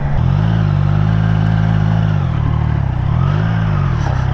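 A Triumph Trident motorcycle being ridden gives a steady, loud engine drone that rises and falls gently with throttle, heard close up without talk.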